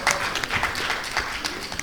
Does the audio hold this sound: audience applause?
yes